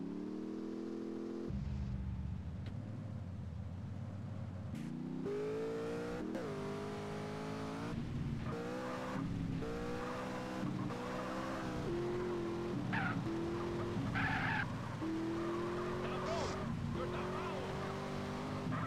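A car racing hard in the video game GTA San Andreas, its engine revving and shifting with repeated tire squeals and skids, loud and continuous under in-game dialogue.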